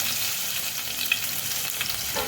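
Garlic sautéing in hot oil for Schezwan fried rice, a steady close sizzle with a few soft stirring scrapes, no talking.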